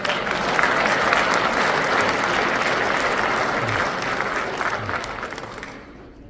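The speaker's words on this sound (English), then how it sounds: "how about one more round of applause for all of our Army Football 2025 award winners" Sustained applause from an audience at an Army Football awards ceremony honoring 2025 team award winners, steady and loud clapping that fades slightly near the end.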